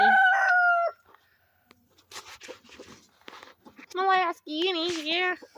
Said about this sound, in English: There's my rooster that my mom gave me.